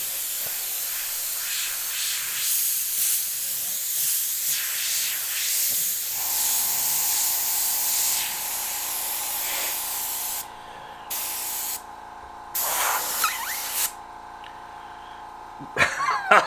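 An Olympus SB airbrush sprays paint in long steady hisses, broken into several separate bursts with quiet gaps, close and clear with a faint background hum.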